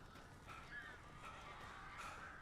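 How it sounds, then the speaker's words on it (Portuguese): Crows cawing in the video game Alan Wake Remastered: a steady stream of harsh, overlapping calls over a dense, noisy background, loud and close throughout. "Ih, rapaz, tá cheio de pássaro aqui mesmo."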